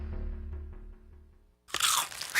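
Herr's fire-flavored potato chips crunch loudly and close by in sharp bursts after a low rumbling hum fades out, with no talking.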